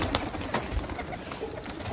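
Pigeons coo at a pigeon farm in low, rolling calls close by, repeating over a constant background murmur with no talk.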